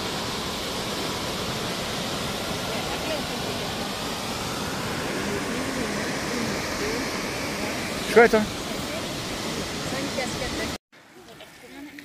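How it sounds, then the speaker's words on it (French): The Biaude cascades pour in a steady, broadband rush of falling water that stays close and loud throughout. A brief voice speaks over it before the sound cuts off near the end. "c'est les cascades de la Biaude"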